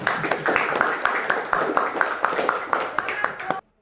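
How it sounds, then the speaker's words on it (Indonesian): A group of listeners claps for a student presentation group in a classroom, a brisk patter of hands with sharp individual claps for about three and a half seconds before cutting off abruptly. "Sebelumnya kita beri tepuk tangan dan semangat dulu untuk kelompok 2."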